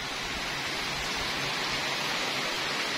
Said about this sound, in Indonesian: akhirnya diturunkan hujan juga ini weh seger banget mantep